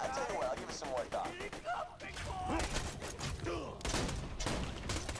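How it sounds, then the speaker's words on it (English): Gunfire in the video game Borderlands 2, with rapid shots crackling in bursts under and between a player's voice and in-game character speech throughout. "Can you stop shooting me for like 2 seconds?"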